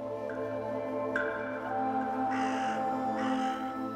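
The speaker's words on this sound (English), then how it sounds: "The baked land lying above Wadi Mujib has given rise to fan-tailed ravens." Fan-tailed ravens calling above the baked land of Wadi Mujib in Jordan: two harsh, croaking caws at a moderate distance over a steady background hum.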